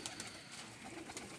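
A pigeon in a Faisalabad pigeon-keeping setting gives a soft, brief coo with faint outdoor background noise.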